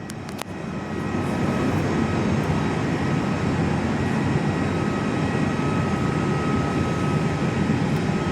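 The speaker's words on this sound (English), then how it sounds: "The F100 is doing a go-around" A Fokker 100 airliner goes around at Perth Airport, heard as a steady, loud engine roar that swells in the first second and then holds at an even level throughout, with no voices.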